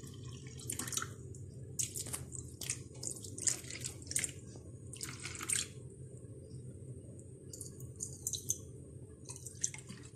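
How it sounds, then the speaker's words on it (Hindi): Water poured into a bowl of urad dal for soaking in a home kitchen, heard as intermittent trickles, drips and small splashes, fairly faint and close, with no talk. "इसी तरह से मैं इसमें माश की दाल में भी पानी डाल दूंगी।"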